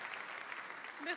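A brief burst of dense audience applause at a rap tribute event: steady, even clapping from a crowd, heard alone for about a second.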